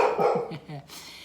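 A pet dog barks several times in a quick, rhythmic burst close to the microphone while a person keeps talking indoors.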